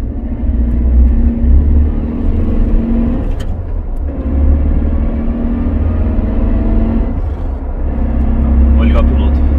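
Suzuki Jimny Sierra pulling away from a start in Sport mode, its engine droning steadily inside the cabin with rising and falling revs through a few gear changes, under someone talking.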